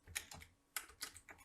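A search is typed on a computer keyboard: a short, close run of crisp key clicks in quick uneven bursts, with no talking.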